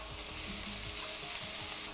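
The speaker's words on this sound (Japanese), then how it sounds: "そしたらここに焼きそば麺加えていきます" Yakisoba noodles and pork stir-fry in a pan for a simple school-lunch-style home recipe, giving a steady close sizzle broken by soft scraping and tossing sounds as the noodles are moved around.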